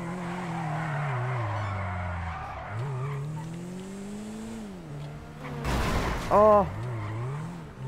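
A car drifting in GTA 5 Online drag racing, engine droning steadily and shifting pitch, then a loud burst of tire squeal and skidding near the end, with a short exclamation from a player.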